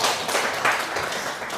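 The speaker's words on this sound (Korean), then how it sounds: "우리 환영의 박수 한번 드리겠습니다" Church audience at a prayer school giving a short, dense burst of applause to welcome first-time visitors, a continuous crowd clapping without a clear rhythm, loud and close.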